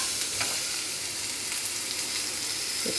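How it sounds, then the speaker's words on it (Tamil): Ground spice paste for rasam fries in hot oil, giving a close, steady crackling sizzle with light stirring scrapes throughout. "இப்போ நம்ம அரைச்ச விழுதை நல்லா வறுத்துக்கலாம்."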